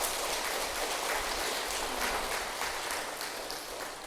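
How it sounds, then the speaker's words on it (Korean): Applause at a Buddhist temple dharma service rises as a dense, hissing wash of many hands clapping, steady through the clip and fading slightly at the end. "박수 쳐주세요."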